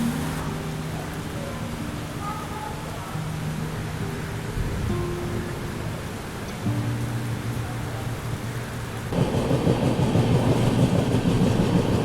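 The Jharkhand Swarna Jayanti Express runs out of Ranchi station in rain, a steady rolling rumble with clickety-clack from the rails and a hiss of rain, growing louder and rougher near the end, with no talk.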